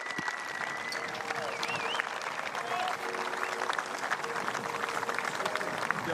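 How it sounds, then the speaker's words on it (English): An audience applauds the winning team, V.O.C. Rotterdam, at an ECL19 final against SG Findorff. The clapping is a loud, dense and steady wash that lasts throughout, with faint thin tones drifting over it. "A big round of applause, everybody."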